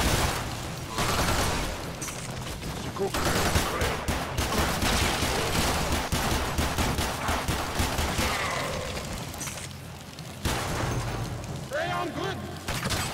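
The Soma rifle fires in the Warframe video game in sustained automatic bursts, a dense, loud barrage of rapid shots that continues with only a brief pause, alongside other in-game effects.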